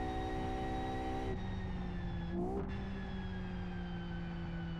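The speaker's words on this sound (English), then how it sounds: "So, six-cylinder engine. Definitely I can hear that." Six-cylinder car engine in the racing game Live For Speed, holding a steady harmonic drone, dropping in pitch at a gear change and climbing again, with a faint transmission whine layered over it, continuous and close.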